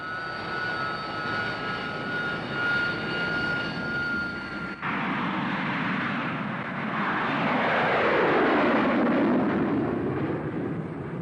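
Harrier GR Mark 1 jet operating from a dispersed field site in 1970, a loud sustained roar that swells and sweeps past, with a falling pitch as it goes by.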